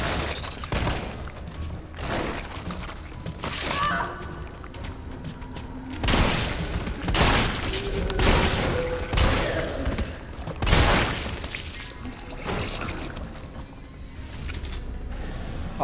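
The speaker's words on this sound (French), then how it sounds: "Ah, le fusil à pompe, quelle invention extraordinaire." Shotgun blasts in the survival-horror game Resident Evil 3, with several loud, sharp booms spread across the stretch amid a busy backdrop of game effects and mechanical clatter.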